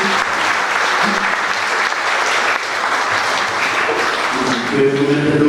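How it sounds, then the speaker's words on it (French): A church crowd at a priest's silver jubilee celebration in a Senegalese village applauds the parishioners with loud, sustained clapping, with faint voices and a tonal musical sound rising near the end. "Vraiment, il faut les applaudir."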